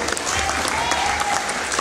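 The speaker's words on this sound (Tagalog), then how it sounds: "Palakpak na lang, kuripot na kayo." Congregation clapping at a church service, a steady dense patter of many hands filling the whole moment, with faint voices mixed in beneath it.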